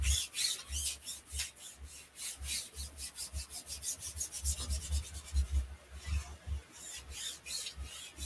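A chalk transfer is rubbed down onto a surface with quick, rhythmic scraping strokes, close and fairly quiet, repeating steadily and speeding up toward the middle before easing.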